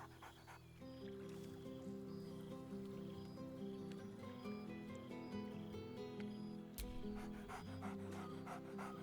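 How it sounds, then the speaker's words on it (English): Scratch, the dog in Baldur's Gate 3, pants steadily and close throughout, with a low droning game score underneath and a brief sharp accent partway through rather than clear barks. "Scratch barks merrily in something like agreement."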